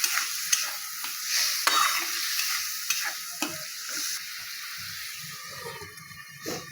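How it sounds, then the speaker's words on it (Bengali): Curry broth in a pan bubbles and sizzles with a steady hiss, broken by scattered pops and stirring clatters at close range. "ঝোল ফুটে গেছে"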